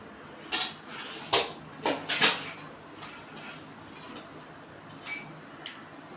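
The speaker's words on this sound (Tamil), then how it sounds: "கடுகு நல்லா பொரிஞ்சிடுச்சு." Mustard seeds splutter and pop in hot oil as a mutton thala curry begins: scattered sharp crackles, a few clustered bursts early, then sparse quieter pops.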